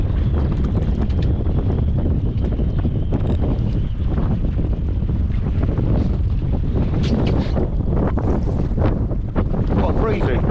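Strong wind blustering across a small fishing boat on Southampton Water, a constant loud roar of buffeting air against the microphone with faint water movement beneath, no talk.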